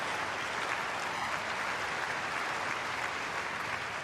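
Tennis crowd at the Pat Rafter Arena applauding steadily as a match point nears, a dense, even wash of clapping held at the same loudness throughout.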